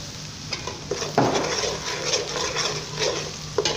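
A spoon stirs curry powder and salt into a sizzling Nigerian meat pie filling in a pot, scraping and frying steadily at close range with a few sharper knocks.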